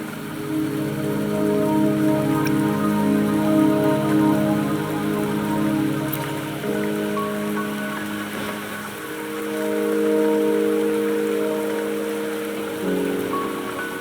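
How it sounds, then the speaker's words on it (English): Steady rain falling in the video game Wuthering Waves, a continuous hiss of drops on surfaces with a soft musical drone beneath, holding level for the whole stretch with no talk. "Don't worry, the rain won't last much longer."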